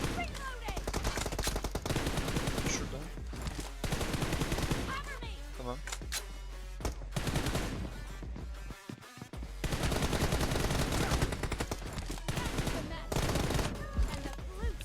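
Gunfire fills a round of the video game PUBG Mobile: dense, rapid automatic bursts crackle almost continuously, loud and close, with only a couple of brief pauses between volleys.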